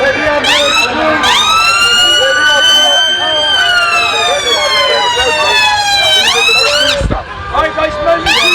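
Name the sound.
ambulance siren passing through a protest crowd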